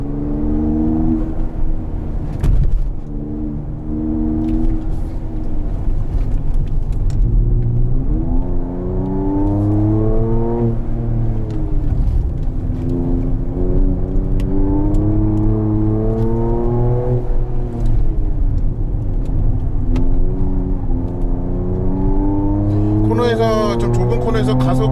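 A 2022 Mercedes-AMG GT43 4Matic Plus engine pulls hard in Sport mode on a winding mountain road, its loud steady drone rising and falling through gear changes, with someone talking over it from inside the cabin.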